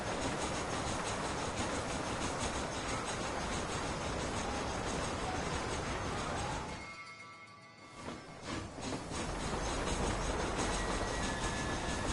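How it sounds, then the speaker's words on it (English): A train rolls along steadily in Red Dead Redemption, a dense continuous rumble of rail cars that dips briefly, as if passing through a gap or tunnel, then swells back to full loudness. "like a cat onto that train."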